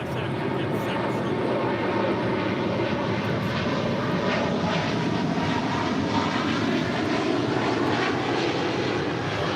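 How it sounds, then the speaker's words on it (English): Air China 988, a Boeing 777-300ER departing Los Angeles International Airport for Beijing, makes a sustained, loud, even engine roar that holds steady without fading, with faint speech in the background. "That was Air China 988 departing to Beijing on a 777-300 ER."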